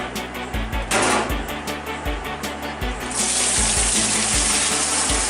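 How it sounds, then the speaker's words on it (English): Rinse water from washed sushi rice pours and gushes out into a sink, a steady close splashing stream that swells louder partway through, with no talking. "you want to dump the water out."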